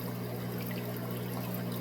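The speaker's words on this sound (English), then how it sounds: "Looks like water flowing." Water flowing and trickling in a murky home aquarium tank housing orange Venezuelan corydoras, a steady soft stream with a constant low pump hum underneath.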